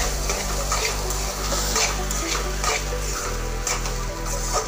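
Peas pulao rice is sautéed in a pan with a steady loud sizzle and frying hiss, punctuated by rhythmic scraping stirs of a spoon against the pan.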